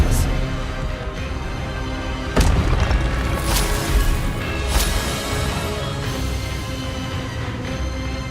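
Expelliarmus spells cast in combat in Hogwarts Legacy, a few sharp booming bursts standing out over a dense game mix, spaced a second or two apart.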